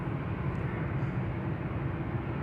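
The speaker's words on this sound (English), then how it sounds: "Here we have Turkish cargo flight 6410 going to Istanbul," A Turkish Airlines cargo jet bound for Istanbul departs Amsterdam Schiphol airport, its engines a loud, steady, broadband roar heard up close with no voices.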